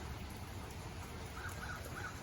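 A blackbird gives three faint, short calls in quick succession in a rainy yard, set against steady patter of rain and low background noise.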